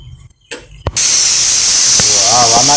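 A pressure cooker blasts out steam in a loud, continuous hiss after a few short knocks, and a voice briefly sounds over it toward the end.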